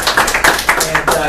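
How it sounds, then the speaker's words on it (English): Scattered clapping from a small audience at a talk, a handful of distinct claps in an uneven rhythm, fairly close, with a voice mixed in. "Big round of applause for you"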